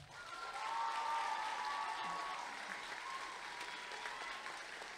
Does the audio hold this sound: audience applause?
yes